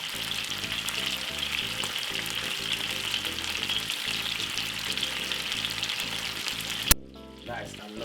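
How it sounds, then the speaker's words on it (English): Food sizzles steadily in a frying pan over medium heat, a constant bright crackling hiss over low background tones, ending with a sharp clack and quieter sizzle. "Just roll them all over another frying pan like this and fry them for roughly 5 minutes on a medium"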